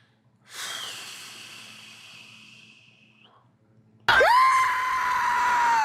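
A person screams loudly and close, with a long, sustained shout that fades, then a second, sharper scream that holds strong to the end.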